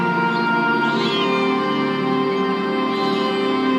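Cats meow and caterwaul, several voices overlapping in a loud, continuous chorus that keeps going without a break.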